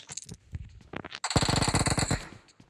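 An Uzi submachine gun fires in a video game: a few scattered shots, then a dense, rapid burst of loud automatic fire lasting under a second before it trails off.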